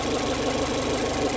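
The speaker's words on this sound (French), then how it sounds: "écoute-moi tourner ce moteur, là" An engine runs at a steady idle with a freshly painted exhaust manifold giving off a little smoke, producing a continuous, even mechanical drone close to the listener.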